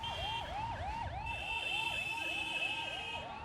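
Ambulance siren wailing in rapid repeating up-down sweeps, loud and steady over low traffic rumble on an Indian road.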